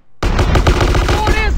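Rapid automatic gunfire in GTA San Andreas erupts suddenly after a brief quiet, a loud, dense burst of shots continuing to the end, with a faint voice underneath.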